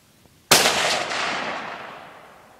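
One loud, sharp blast from a rifle shot setting off an exploding target at an outdoor range, with a long rumbling decay fading over about two seconds.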